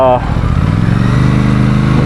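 Aprilia Tuono 457 motorcycle engine and exhaust, a loud, close, throbbing exhaust note that holds steady throughout, partly under a man's speech.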